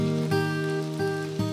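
Steady rain falls in a Hokkaido forest where Ural owls nest, a continuous soft wash of drops under a low hum, with a few faint taps spaced through the quiet background.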